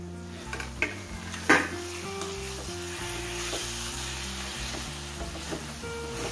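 Spicy dum aloo potatoes sizzle gently on low gas, a soft continuous frying hiss with a few sharp clinks and scrapes of a utensil against the pan, heard under quiet background music.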